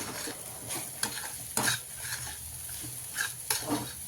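Crumbled chapati being stirred in a pan after salt is added, with soft sizzling beneath and several sharp scrapes and clinks of a spoon against the pan, close and fairly quiet.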